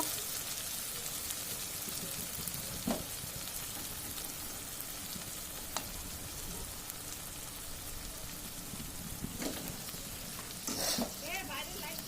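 Goat mutton fries in a spice masala, a dense, steady sizzle broken by occasional stirring scrapes.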